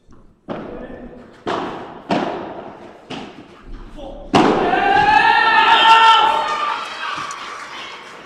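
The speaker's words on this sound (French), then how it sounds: "Énorme smash de Blanquet, une fois de plus" Sharp ball strikes ring out one after another in a pelota semifinal of the French championship, ending in a hard smash met by a loud, sustained crowd roar.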